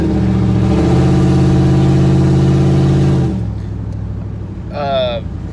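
A truck engine runs loud and steady with a deep rumble, then drops back toward idle; a brief rising whine follows near the end.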